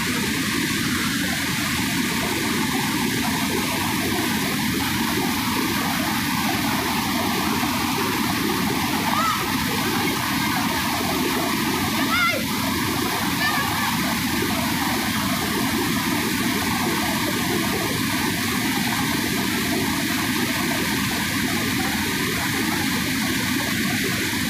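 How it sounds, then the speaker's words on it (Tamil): Kozhikkarai river in flood in the Nilgiris hills of the Western Ghats, a waterfall and torrent pouring past a bridge, giving a steady, loud broadband roar of rushing water that holds unbroken throughout. "தண்ணியோட சவுண்ட் எப்படி இருக்கும் பாருங்கள்."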